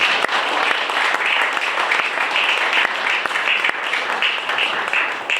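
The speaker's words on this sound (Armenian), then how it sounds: "խնդրում եմ բարձր ծափահարություն" Audience applause welcoming the newly appointed Armenian ambassador at a community meeting, a dense, steady wash of many hands clapping at full strength throughout, close and loud with no speech over it.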